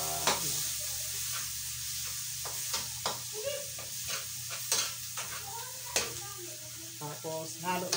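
Tiny salted shrimp and other ingredients sautéing in rendered pork fat in a pan, a steady close sizzle broken by repeated scraping stirs and clicks, with a little background voice now and then.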